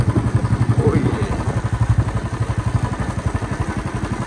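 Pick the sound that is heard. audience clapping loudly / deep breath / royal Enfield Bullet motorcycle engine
royal Enfield Bullet motorcycle engine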